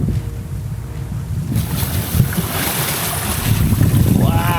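A sailboat running downwind through wind and waves, with a steady roar of wind buffeting the microphone and water rushing and sloshing against the hull, building louder toward the end.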